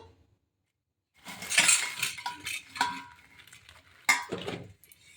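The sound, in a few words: mixing batter for dahi bara in a bowl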